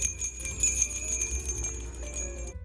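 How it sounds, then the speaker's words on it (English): Christmas bells ringing in a craft store's holiday decor section, a bright jingling shimmer with sustained metallic tones over a soft low rumble, close and fairly loud with no voices. "We are not going to hear the Christmas bells until next year"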